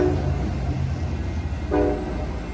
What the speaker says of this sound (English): Alright, the train is off to Bakersfield.